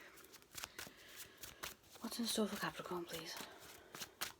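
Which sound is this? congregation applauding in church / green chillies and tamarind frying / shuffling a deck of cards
shuffling a deck of cards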